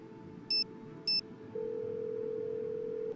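An incoming phone call in the Nancy Drew: Alibi in Ashes video game gives two short electronic beeps, then a long steady tone, all fairly quiet.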